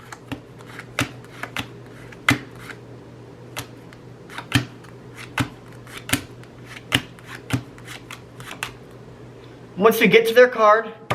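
Playing cards from a deck are flipped through one at a time, giving a steady run of crisp, close snaps, and a voice briefly talks at the end.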